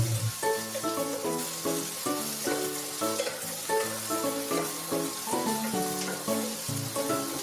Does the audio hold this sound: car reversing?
no